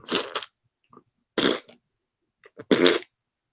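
A voice imitates a series of farts, three separate bursts spaced about a second apart, close and fairly loud, with short quiet gaps between them.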